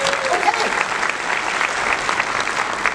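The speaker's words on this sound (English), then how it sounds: "By a round of applause." Conference audience breaking into a steady round of applause, dense clapping throughout with a voice briefly heard at the start.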